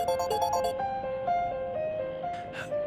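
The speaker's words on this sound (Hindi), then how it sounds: "मिकी फोन मत उठाना।" A phone rings with a steady electronic tone, near and fairly loud, during a scene in a Hindi TV drama episode; no talk is heard over the ring.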